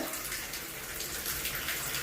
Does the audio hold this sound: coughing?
no